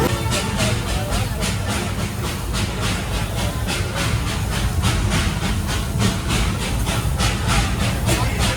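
A train halted at a station near Kanchenjunga on a joy-ride line gives a rhythmic, repeating hiss of released steam, loud and close, with voices faintly in the background.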